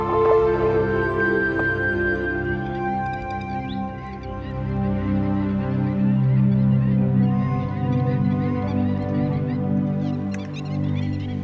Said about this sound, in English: Thousands of resident and migratory birds feel secure